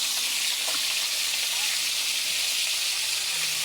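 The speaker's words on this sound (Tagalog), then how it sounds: "Nagpiprito ng isda." Fish frying in a pan, a continuous close sizzle and crackle of hot oil holding steady throughout at moderate loudness.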